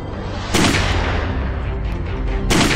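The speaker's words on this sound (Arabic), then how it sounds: "اللانشات ابتدت تخش تضرب نار" Gunfire from boats, two sharp loud bursts a couple of seconds apart over a steady rumbling background, with no talking.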